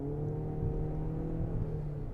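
Toyota Corolla Cross AWD engine straining under hard acceleration with a gravelly, steady low drone heard from inside the cabin, with no talk over it.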